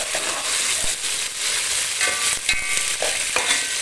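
Onions frying in a pan for moti pulao, a loud close sizzle with irregular scraping and stirring knocks of a utensil against the pan.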